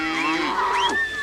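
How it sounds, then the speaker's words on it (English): Cattle moo once, a single close, drawn-out bellow that rises and then falls, heard alone without talk. "Bring the cattle here."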